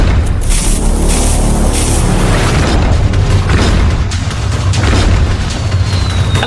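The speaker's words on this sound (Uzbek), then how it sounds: "Wow, bomba tushyapti." Bombs explode in a Minecraft game as a loud, continuous roar of booming blasts and rumble that fills the whole stretch without a break.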